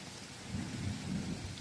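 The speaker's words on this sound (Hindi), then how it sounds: "पूरा बादल गरज रहे हैं, चमक रहे हैं" Thunderstorm with steady rain and a low, rolling rumble of thunder swelling through the middle, continuous and moderately loud with no voices.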